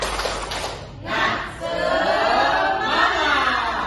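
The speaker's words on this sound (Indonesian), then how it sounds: "Ibu mau kalian tepuk semangat sekali lagi supaya kita lebih semangat" A primary-school class of children chants a spirit clap together in a classroom, a burst of loud, massed young voices shouting in unison, close and echoing.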